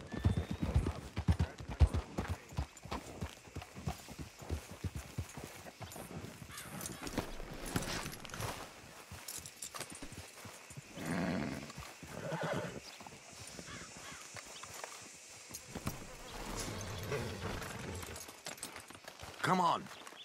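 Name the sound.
horses walking and neighing at hitching post, Red Dead Redemption 2 video game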